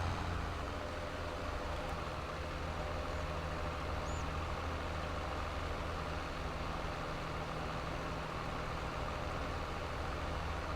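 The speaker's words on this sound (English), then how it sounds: "Just two-wheeling a massive tractor" A large tractor engine drones steadily as it drives along a road on a farm map in Farming Simulator 22, a continuous low rumble with tonal hum at an even loudness and no talking.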